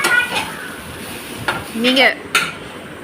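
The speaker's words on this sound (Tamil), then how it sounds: "அந்த மசாலாவையும் முட்டையும் சேர்த்து நல்லா கிண்டுங்க" A spoon scrapes and stirs masala and egg in a pan for Tamil-style egg rice: short, soft metallic scrapes and light sizzling, close by, with a voice speaking briefly.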